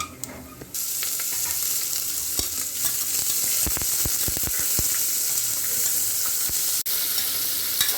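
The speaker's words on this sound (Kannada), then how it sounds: "ಈಗ ಈರುಳ್ಳಿ ಹಾಕೋಣ" Onions tipped into hot oil with whole spices sizzle loudly in a pan for a home-style kushka, a steady broadband crackle with scattered sharp pops and stirring clatter, no voices.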